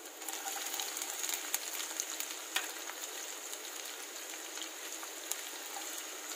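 Onions fry in oil for Veg Manchurian with a constant soft sizzle, scattered small pops and faint stirring knocks, heard close and alone.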